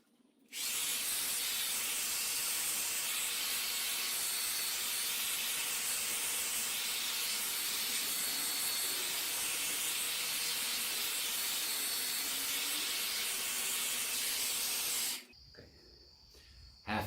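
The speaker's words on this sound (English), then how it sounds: "And a hair dryer to speed up the drying." A steady, loud rushing hiss of a hair dryer's blown air, drying lacquer on wood, runs continuously for about fifteen seconds, then cuts off abruptly, leaving quiet room tone.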